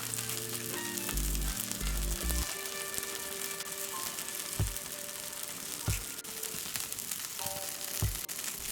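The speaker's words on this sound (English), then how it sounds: "Pour oil on the takoyaki like this." Soft, steady sizzling of takoyaki balls frying in oil, with a few faint clicks and taps of a utensil turning them.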